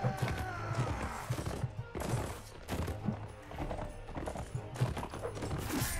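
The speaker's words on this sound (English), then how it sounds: "Alright, got a horse charge." Cavalry horses gallop in a charge in the Mount and Blade video game, a steady run of hoof clip-clops with scattered thuds and game combat noise throughout.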